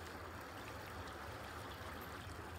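Water in the video game Sons of the Forest, a continuous soft trickling stream with gentle gurgles, steady and close for a couple of seconds, no talk.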